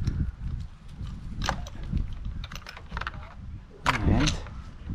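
Metal tool parts clicking together as a socket, extension and spark plug socket are fitted for an outboard motor service, heard as small close clicks and rattles under a low background rumble, with one louder clatter near the end.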